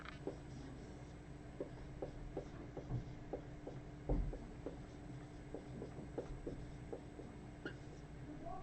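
Pen strokes of math steps being handwritten on paper, with soft scratchy taps and short scribbles in an irregular rhythm, quiet and close, one firmer tap partway through.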